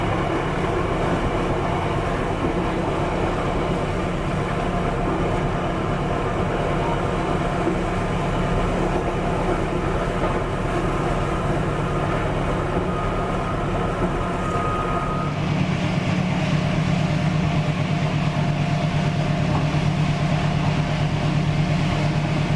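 Continuous loud rumble and rattling inside the economy-class Banyubiru passenger train from Solo running at about 95 km/h, steady throughout with a slight shift in tone near the end, no talking.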